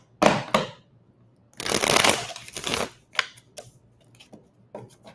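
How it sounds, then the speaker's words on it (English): Tarot cards being shuffled by hand, several crisp riffling bursts, one long and a few short, each followed by lighter taps and flicks, close up and quiet between them. "I feel like I need one more shuffle."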